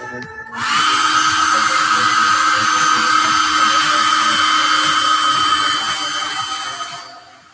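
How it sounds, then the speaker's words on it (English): A hair dryer blows steadily and loudly for about six seconds, drying paint on a Christmas ornament, with a constant whooshing motor whine that switches on abruptly and then tapers off. "Oh yeah, hair dryer incoming."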